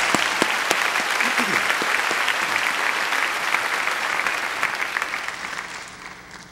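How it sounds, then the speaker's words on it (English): A graduation ceremony audience applauding, with loud, dense clapping and a few sharp individual claps standing out, sustained throughout before tapering off slightly at the very end. "this milestone deserves a round of applause"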